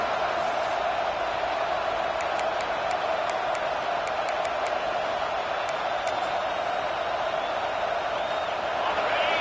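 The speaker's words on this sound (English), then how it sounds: "listen to this crowd noise. This stadium is vibrating." A stadium crowd roars at a football game, a broad, constant wash of noise held throughout, with faint scattered whistle-like tones drifting across it.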